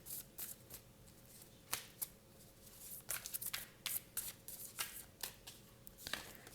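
Tarot cards shuffled and drawn by hand, a dense run of quick papery riffles and soft slaps close up, with brief pauses between bursts and no talking.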